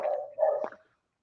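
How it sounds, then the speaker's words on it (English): A pet dog named Logan gives two quick barks close by, clear and alone, then silence. "My dog was barking. That's my dog, Logan. He likes to bark."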